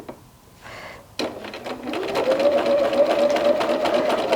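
Sewing machine stitching around the outer edge of a quilt, starting after a brief click and building into a steady, close mechanical whir with a rising motor tone that runs continuously to the end.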